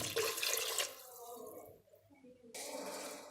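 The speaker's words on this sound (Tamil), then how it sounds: "தண்ணி இன்னும் கொஞ்சம் எக்ஸ்ட்ராவாக கொஞ்சம் ஊற்றிக்கிறேன்." Water poured from a tap or vessel into a pressure cooker holding mutton leg pieces for soup, a close splashing flow that tapers off midway and then resumes briefly.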